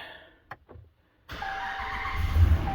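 Dodge Ram engine starting after a starter replacement: a short starter crank with a couple of clicks and a pause, then the engine catches and settles into a steady idle, close by.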